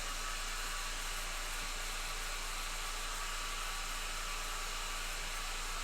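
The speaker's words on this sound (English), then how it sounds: "I got a dryer going, or my hair dryer, so it's a little noisy" A hair dryer runs continuously close by, giving a steady, loud, even whoosh with a low hum beneath it and no voices over it.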